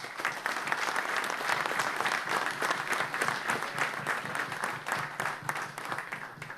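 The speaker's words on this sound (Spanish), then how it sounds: "Vamos a dar un aplauso" Steady audience applause at a formal event, with a broad even clatter of many hands that runs continuously and fades slightly toward the end, with no talk over it.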